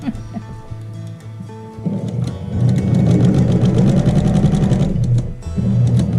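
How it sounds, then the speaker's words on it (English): A sewing machine that was not sewing right runs with a steady mechanical whir and rapid stitching rhythm, loud and close, starting softer and building up. "The sewing machine's not sewing right."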